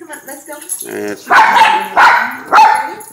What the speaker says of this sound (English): he is just barking and doesn't play